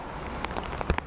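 A heavy rain downpour hisses steadily as a dense, broad wash, with scattered louder drops and splashes rising above the constant roar; no talking.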